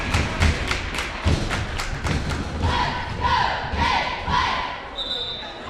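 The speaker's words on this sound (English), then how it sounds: "Cheer squad bringing the energy." A cheer squad at a boys' high school basketball game stomps and claps in a sharp rhythmic burst of loud thuds, then crowd voices and cheering swell in the gym.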